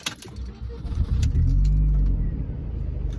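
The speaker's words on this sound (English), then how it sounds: "There we go, the car started." A car engine cranks and catches, then settles into a close, steady low idle rumble, with some brief clinks before it fires.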